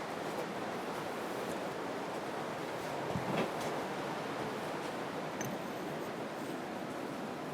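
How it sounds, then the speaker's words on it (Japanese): Steady rain hiss fills the background behind hand-tool work setting up a small Japanese plane, a dense even wash of noise with a couple of faint knocks, no voices. "めちゃくちゃ雨の音が入ってると思い"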